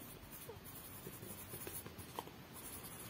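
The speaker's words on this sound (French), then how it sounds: "On va écrire ça" Pen or marker writing a French question sentence on a classroom board during a grammar lesson, a steady faint scratching with small strokes, no talking.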